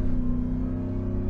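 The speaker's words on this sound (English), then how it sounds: "this whole supercharger whining, you know, noise" A Ford Shelby F-150 pickup's supercharged V8 gives a steady engine drone with a sustained supercharger whine on top, continuous and fairly close, with no voices.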